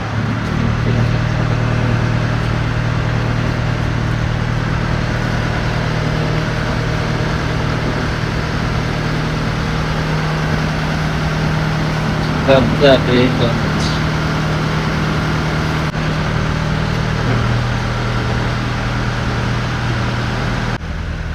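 Steady low drone of a ferry boat's engine during a crossing at Mangalore, continuous and fairly loud throughout, with a brief clatter of other noise midway.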